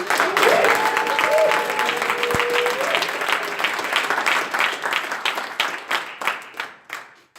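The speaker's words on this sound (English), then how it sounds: "Applause for a jury that is here on their Sunday evening" A dense round of applause from the audience for the jury at a fintech startup weekend closing ceremony in Geneva, loud and steady at first, then thinning into scattered claps as it fades.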